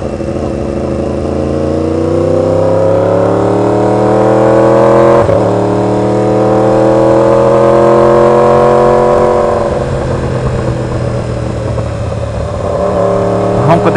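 A 2016 Yamaha R1 motorcycle engine revs up in long, rising strokes, loud and close, easing off and then climbing again near the end.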